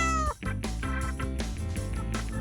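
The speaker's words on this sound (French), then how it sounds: "Ce sont des servals." Servals in a home setting give a string of loud, close, harmonic meow-like calls, several cries in quick succession with brief gaps between them.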